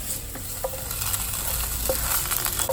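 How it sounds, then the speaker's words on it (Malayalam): Ingredients for a Maggi noodle omelette sizzle steadily while being sautéed in a pan, with a continuous frying hiss and a few soft scrapes of a spoon stirring through. "ഇതിൻ്റെ ഒരു പച്ച ചുവ മാറാനും ഒന്ന് വാടിക്കിട്ടാനും വേണ്ടിയിട്ടാണ് നമ്മളിങ്ങനെ വഴറ്റിയെടുക്കുന്നത്"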